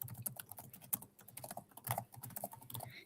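Computer keyboard typing while an email is written, a quiet run of irregular key clicks with small pauses, close and alone with no voices.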